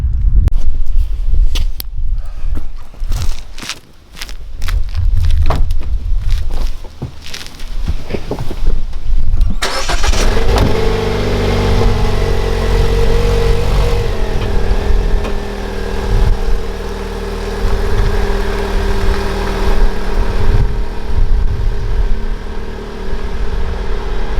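A car engine turns over partway through and settles into a steady, close idle hum that continues to the end, following a stretch of scattered clicks and knocks.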